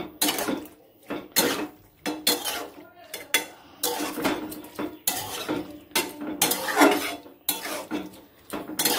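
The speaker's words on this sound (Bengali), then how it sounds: "দেখুন আমি ভাজাগুলো দিয়ে দিয়েছি, এটা ভালো করে মিক্স করে নেব" A spoon clatters and scrapes against a pot while shrimp, papaya and potato curry is mixed, in loud irregular metallic strokes close by with short pauses between.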